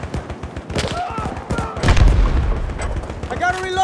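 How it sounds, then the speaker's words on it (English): Automatic gunfire in Battlefield 2042, rapid close bursts of shots with heavy booming impacts in a chaotic firefight, a voice talking over it. "Damn, the enemy's going full auto on me right now."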